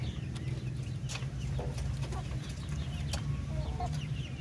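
Darag native chickens cluck and a rooster calls over a steady low rumble, with sharp bird sounds scattered through the clip, fairly close and moderately loud.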